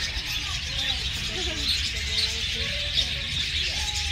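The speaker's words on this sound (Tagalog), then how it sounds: "punta kami dito sa kulungan ng mga ibon" Many small birds chirp and tweet at once in a dense, continuous chatter over a steady background hiss, inside an aviary at Parque Europa, Madrid.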